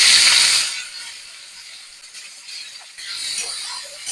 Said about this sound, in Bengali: এই যে এবার আমি একটু পেঁয়াজ বেরেস্তা করে নেব।